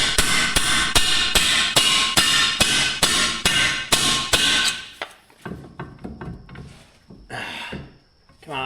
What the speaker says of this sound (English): You want to get a punch, drive these bolts out.